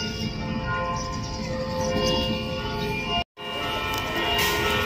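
Church bells ring steadily at Baclaran Church in Pasay, a sustained metallic tolling with layered overtones filling the space, briefly broken by a short cut of silence before the ringing resumes.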